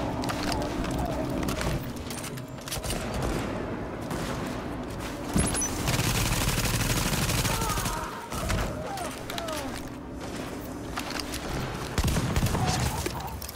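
Gunfire in The Division video game at a napalm production site: sustained bursts and volleys of shots over about thirteen seconds, dense and fairly loud with brief lulls, and faint game voices mixed underneath.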